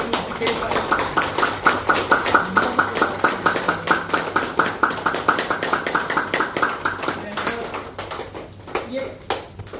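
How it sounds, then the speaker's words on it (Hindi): Rhythmic hand clapping by a group at a yoga practice camp, steady repeated claps for most of the stretch, fading near the end, with voices underneath. "ताली बजा के करने से और फर्क पड़ता है।"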